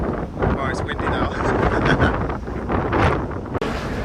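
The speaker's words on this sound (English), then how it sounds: "Oh, it's windy now." Strong wind buffets the microphone on the open deck of a ferry bound for Sardinia, a loud and continuous rushing roar with gusts, while a voice speaks faintly beneath it.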